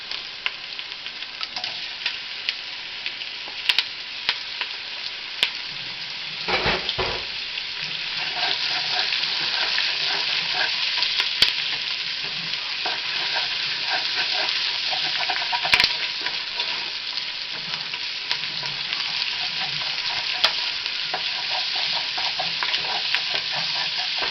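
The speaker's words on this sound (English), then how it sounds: "so I'm going to add the sausage and get them to get a little bit more cooked" Sausage sizzles steadily in a hot pan alongside caramelized vegetables for jambalaya, with a spoon scraping and stirring now and then, plus a brief louder knock partway through; continuous close frying hiss with no talking.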